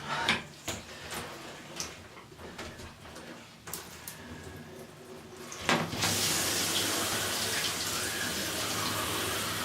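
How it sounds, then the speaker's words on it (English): Water runs over the base of an EcoBee being rinsed in a bath at home, starting with scattered knocks and splashes before a steady loud gush of running water takes over for the last few seconds. "the next stage, where I'm probably going to get a little bit wet, is to just slightly rinse off the base of it"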